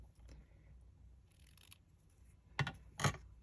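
Scissors trimming a paper die cut for a card project, two quick, close snips near the end after a quiet stretch of faint handling noise.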